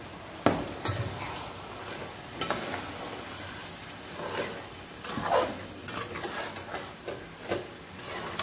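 Egg biryani being stirred in a pot, a quiet low sizzle under intermittent scrapes and clanks of a spoon against the metal, spaced irregularly and fairly close.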